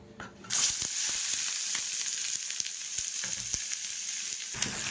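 Chopped onion and green chili hit a hot frying pan, bursting into a loud, sudden sizzle after a moment of quiet, then holding a steady crackling hiss with small utensil taps.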